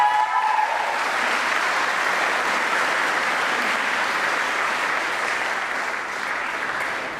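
Rowdy crowd at a university graduation ceremony applauding, a dense, even wash of clapping filling a large hall, loud and sustained for several seconds with a brief whistle or cheer at the start.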